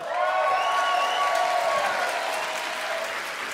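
Live audience applause at a BBC Introducing music session at the Worcester Music Festival, a dense, steady burst of clapping from a crowd that holds loud throughout and only begins to thin slightly at the end.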